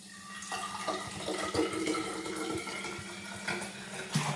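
Clean water trickling and splashing as it is poured into a glass, with a few clinks, fairly quiet and close.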